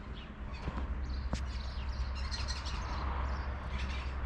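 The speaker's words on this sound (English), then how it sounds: "Beautiful birds in the tree" Birds chirp and tweet in a tree at a hotel in Sefrou, Morocco, with faint, scattered calls over a quiet outdoor background.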